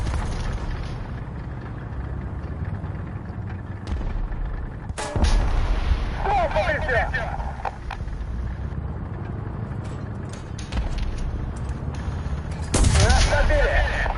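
Loud tank cannon blasts and rumbling battlefield gunfire in a tank video game, with sharp heavy bursts around the middle and near the end over constant engine and combat noise, with voices talking in places.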